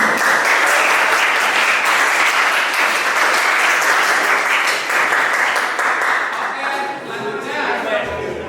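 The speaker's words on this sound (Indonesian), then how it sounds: "kasih tepuk tangan" A school audience at SMKN 1 Adiwerna, gathered for an anti-bullying session, claps loudly and continuously before the applause thins and fades near the end.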